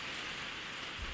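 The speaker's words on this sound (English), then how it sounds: "Sorry about the rain." Steady rain falls throughout, a constant hiss of drops on a surface, moderately loud and even, with a low thump near the end and no talking.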